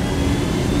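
A helicopter engine in the video game Ghost Recon Wildlands gives a steady, low, droning whir with a constant heavy rumble underneath, close and unbroken throughout.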